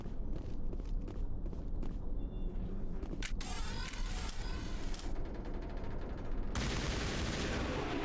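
Gunfire from the video game Mass Effect, a busy stretch of repeated shots and bursts mixed with game effects and footstep-like clatter, steady and fairly loud throughout with no voices.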